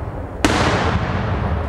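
A daylight fireworks bomb shell bursts with one sharp, loud crack at a saint's feast show in Cicciano, Naples, followed by a dense crackling and rumbling wash that lingers to the end.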